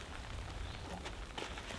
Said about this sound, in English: It's beginning to rain right now.